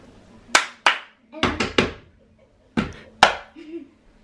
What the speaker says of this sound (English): Clap two times.